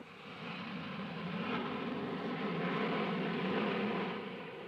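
Steady airliner cabin roar during descent in the 1979 Soviet disaster drama, a continuous broadband engine and airflow rumble that swells slightly and holds loud and even throughout, with no voices.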